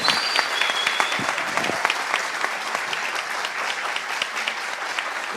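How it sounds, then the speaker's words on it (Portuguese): Audience at a cultural panel on schools gives steady, dense applause throughout, with individual claps crisp and moderately close and no talking over it. "Palmas."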